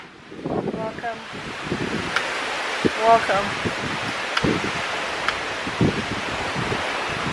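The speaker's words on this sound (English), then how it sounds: "It's really windy, y'all. Super windy." Strong wind buffets an outdoor view deck in a steady broadband roar that runs the whole way through, with a person talking over it close to the microphone.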